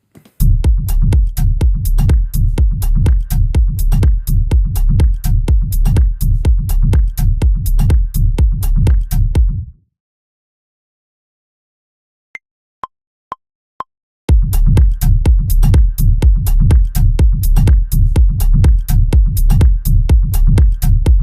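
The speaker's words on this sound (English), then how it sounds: "I'm going to use this click sample on sound slot 7." A fast, driving techno beat made in Maschine with a sharp click percussion sample, dropping out briefly to a few isolated clicks before the full loop returns.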